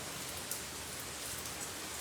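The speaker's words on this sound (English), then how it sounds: "it's raining big time" Heavy rain falling steadily, a dense continuous wash of drops close by, alone with no voices.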